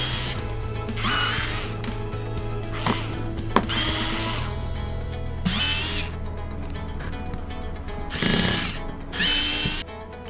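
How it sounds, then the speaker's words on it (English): A screwdriver works loose Torx T10 screws on a Bosch GSR 120-LI cordless drill and driver. Repeated close ratcheting clicks and scraping come in short bursts over a low steady hum, with no talking. "To unscrew, I'm going to use Torx size 10 or T10 screwdriver."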